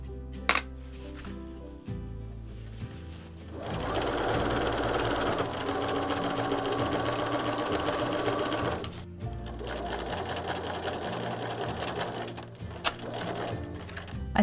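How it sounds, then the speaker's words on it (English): A sewing machine stitches together the lining and facing pieces of a curved rain cape, running in long steady bursts with brief pauses and stops between seams, close and fairly loud with no talking. "I spent the rest of this 20-minute session sewing together the lining and the facing pieces"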